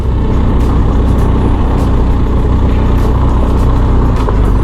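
A motorcycle rides off-road over completely loose gravel, giving a loud, steady engine and tyre rumble that continues without a break and with no voices.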